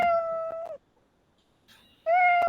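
The Scratch cat sprite gives two clear, sustained meows, each tonal and bright, separated by a short near-silent gap; the cries are loud, close and free of talk.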